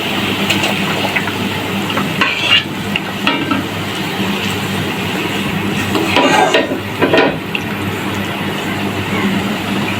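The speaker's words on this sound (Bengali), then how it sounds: "দেখো ঝোলটা ফুটে গিয়েছে, আমি এখন ভাজা পটলগুলো ছেড়ে দিচ্ছি।" Fried pointed gourd pieces go into a boiling rohu fish curry, giving a steady bubbling sizzle with stirring and a few louder splashy bursts as the pieces drop in.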